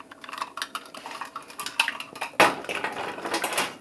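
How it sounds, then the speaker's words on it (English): Cornstarch for a peach cobbler is spooned in by half a teaspoon, with close metallic scrapes and clinks of a measuring spoon against a bowl, then a louder rattling clatter near the end. "I'm just going to add a half a teaspoon of cornstarch to this."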